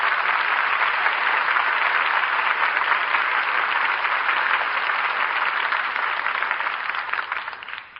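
A radio theatre audience applauds the cast at the close of a broadcast play, with steady, dense clapping held at full strength for several seconds before it begins to fade at the very end.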